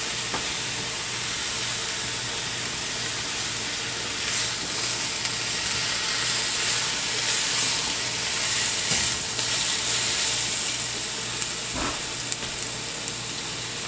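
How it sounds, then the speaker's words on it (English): Beef tossed back into a hot pan and stir-fried: a loud, steady sizzle fills the whole stretch, with occasional scrapes and clinks of the utensil mixing it through. "Now I'm going to add my beef back in. And give this a mix."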